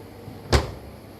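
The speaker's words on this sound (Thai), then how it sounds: "ลองเปิดพวกลิ้นชักดูนะครับ" A kitchen drawer in a hotel-room kitchenette in Rayong is pulled open with one short wooden thud and click. The sound is close and moderately loud, with quiet room tone before and after and no talking.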